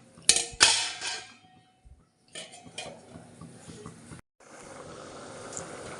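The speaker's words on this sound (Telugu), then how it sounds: "ఇలా తిప్పేసేసి మూత పెట్టేసుకుందాం" A thick country-chicken egg curry is stirred in a metal pot, with a few sharp clanks and scrapes of a spoon, then a quiet pause, softer clinks and a lid set down, followed by a low steady simmering hiss.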